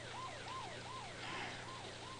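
An ambulance siren from a 1984 Anacin pain reliever TV commercial wails in steady rising and falling sweeps, repeating about every 0.4 seconds at constant loudness, with no talking over it.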